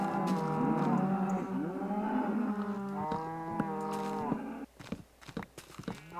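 Many cows moo in Minecraft, a dense overlapping chorus of long, loud calls released from a semi-automatic cow farm, thinning out toward the end.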